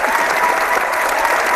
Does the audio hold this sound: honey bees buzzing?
no